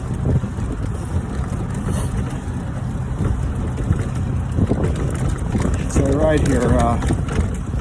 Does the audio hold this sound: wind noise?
yes